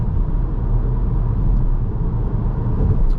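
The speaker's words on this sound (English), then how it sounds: "the asphalt is here a little bit rough, so it might be noisier, and we are on winter tires" Steady low road rumble inside a 2021 Cupra Formentor VZ cruising at about 100 km/h on rough asphalt with winter tires, a continuous dense drone with no talk.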